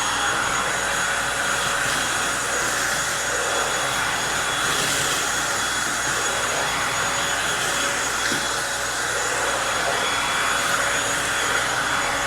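A Eureka stick vacuum cleaner runs continuously with a steady high-pitched whine and airy roar, loud and unbroken throughout.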